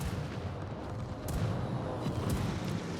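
In a naval video game, a World War II battleship's guns fire and shells strike home in a dense, continuous rumble of booms. A few sharper cracks stand out, and there is no clear talk over it.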